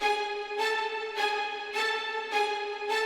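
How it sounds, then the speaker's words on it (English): Two stacked violin patches from the Halion Sonic Iconica library play sustained, bright string tones with evenly spaced rhythmic accents about every half second, heard alone without voices. "my favorite part out of this whole section is these layers of violins that, again, I am using from Halion Sonic."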